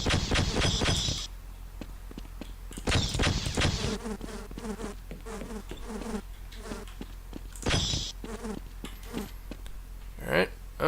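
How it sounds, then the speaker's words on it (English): Bees buzz continuously in a video game maze, a steady droning hum that pulses in and out while a person talks over it. "And the first thing we find are the bees."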